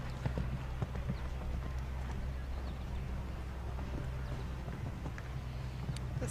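A young horse's hooves clip-clop at a 1.45m CSI 2* speed show jumping round, a faint distant rhythm of repeated hoof strikes over a low steady background hum.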